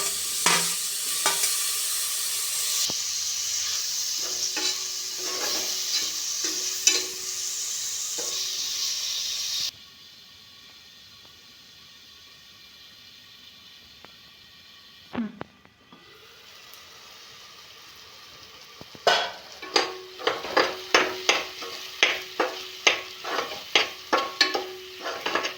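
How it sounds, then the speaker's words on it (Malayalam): Chopped green chilli and tomato sauté in a hot pan for a Kerala beef roast, a steady sizzle broken by a quieter stretch, then scraping stirs that come back as sharp repeated strokes near the end. "അരിഞ്ഞു വെച്ച തക്കാളി ചേർത്ത് നല്ലോണം വഴറ്റുക"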